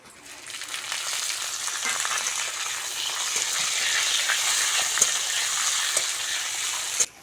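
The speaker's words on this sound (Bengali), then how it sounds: "রসুনটা ভালো করে ভেজে নিয়েছি কাঁচা লঙ্কা কাঁচা টমেটোটা দিয়ে দেবো" Green chillies and raw tomato fry in a pan with crushed garlic and black cumin, a dense, even sizzle that swells slightly and holds steady for several seconds before cutting off.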